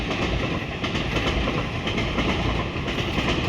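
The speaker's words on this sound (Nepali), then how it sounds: "भर्खरै ट्रेन गयो" A train rolls past close by in Japan, a steady loud rumble with rhythmic clattering of wheels over rail joints throughout, no voices.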